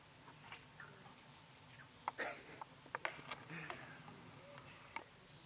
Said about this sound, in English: I hear crickets, birds.